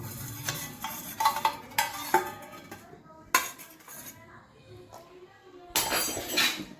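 A metal spoon spreads ghee around a tin, with scattered clinks and scrapes of metal on metal up close, under light background noise.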